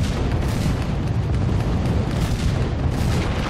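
Cannon fire in the Skylanders Spyro's Adventure video game, in a pirate seas level, a dense continuous rumble of booms filling the whole stretch, loud and steady with no talk over it.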